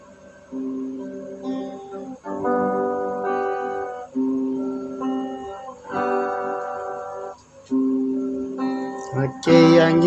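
Recorded guitar playing back through a GoLiveMic recording setup, strummed chords ringing in phrases of a few seconds each at a steady moderate level, with a brief louder burst near the end.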